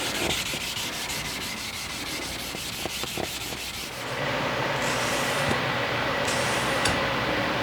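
Steady, gritty hand sanding on a steel knife blade of Magnacut steel, a constant abrasive rasp with quick back-and-forth strokes that turn into a smoother, even scrub.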